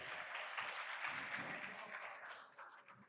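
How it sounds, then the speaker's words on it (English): Applause from a small group of trainees at a work readiness training session, a steady patter of clapping at moderate distance that fades toward the end. "let's give him a round of applause"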